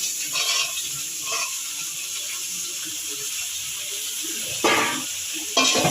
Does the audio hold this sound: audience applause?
no